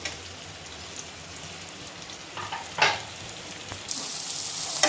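Curry leaves, cashews and chopped green chillies frying in oil with a little salt for upma, a soft continuous sizzle with scattered crackles and pops that grow busier toward the end.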